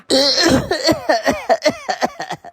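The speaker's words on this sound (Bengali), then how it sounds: "আপনি আইসা পড়ছেন, কিন্তু আপনার কাশিটা ঠিক হইলো না" Repeated coughing performed by a voice for an anime character in a comedic Naruto dub: one long rough burst, then a run of short, close coughs spaced a fraction of a second apart.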